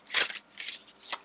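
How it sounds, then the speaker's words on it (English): A deck of cards is riffled in three quick, crisp bursts of fluttering card noise, close up and fairly quiet, during a tarot-style card reading. "I'm having a difficult time shuffling for you guys."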